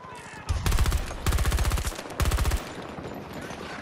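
Bursts of automatic gunfire in Battlefield 2042, three loud rapid strings of shots in close succession over a busy game background.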